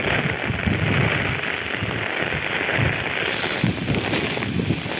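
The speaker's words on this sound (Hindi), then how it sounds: "हवा इतनी तेज चल रही है और बारिश भी साथ में हो रही है" Heavy rain and strong wind sweep over paddy fields of a damaged crop, a loud, steady roar with gusts buffeting the microphone throughout, no voices.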